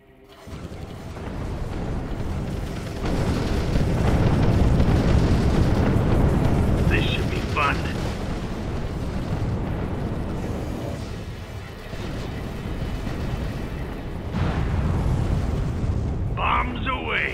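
Bombing explosions from a bomber wing in the space strategy game Sins of a Solar Empire Rebellion, a sustained rumbling roar of blasts swelling and easing with brief pops, moderately loud throughout.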